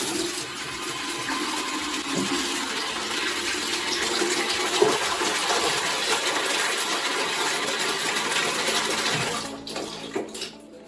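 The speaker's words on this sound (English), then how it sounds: "Refill with clean water." A cleaning bucket refilled with clean water from a tap in a washroom, a loud continuous rushing gush lasting several seconds, close by, then cutting off near the end.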